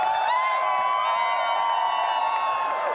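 A large arena crowd at the Dota 2 Grand Finals roars and cheers in a loud, continuous wall of sound that holds steady throughout.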